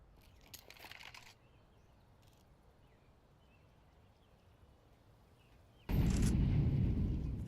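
A grenade bursts in a Counter-Strike match, a sudden loud broadband blast near the end that follows quieter ambient game noise and a few faint early clatters.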